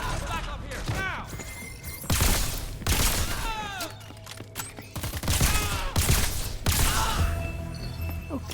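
Gunfire from the video game Crackdown 3 comes in repeated loud bursts and volleys, mixed with whooshing effects and the clatter of combat, while game characters shout over the action.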